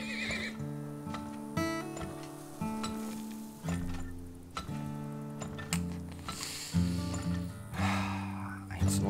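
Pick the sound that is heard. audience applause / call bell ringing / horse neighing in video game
horse neighing in video game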